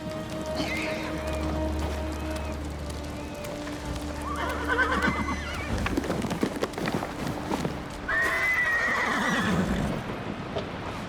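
A horse in Ghost of Tsushima whinnies twice over steady hoofbeats and rain-like background noise, the neighs loud and close.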